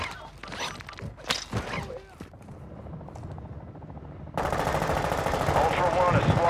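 Video game gunfire in Call of Duty DMZ: bursts of automatic weapon fire and sharp shots in the first two seconds, then a steady rumbling battle din that swells louder midway, with faint game voices and mechanical clatter.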